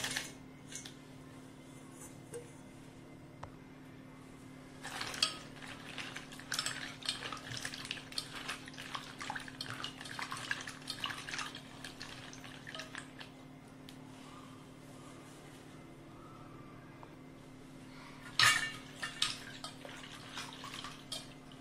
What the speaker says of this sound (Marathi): हे बोंबीलचे तुकडे आधी आपण स्वच्छ गरम पाण्यामध्ये धुवून घेऊया।